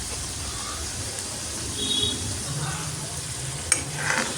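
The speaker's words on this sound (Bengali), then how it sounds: "আমার আলু ভাজাটা হয়ে আসছে" Potatoes frying in a pan of oil, turning red-brown; an even hiss of sizzling oil fills the clip with low stirring rumbles partway through and a sharp metallic clink near the end.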